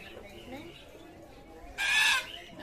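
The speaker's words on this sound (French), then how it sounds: "ça a l'air d'être un perroquet ou perruche à queue noire" A black-tailed parrot or parakeet at a zoo gives one loud, harsh call with a clear pitch, standing out above a quiet background of soft ambient noise.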